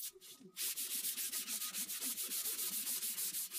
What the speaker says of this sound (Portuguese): lixei a úmido com uma lixa de 400 grãos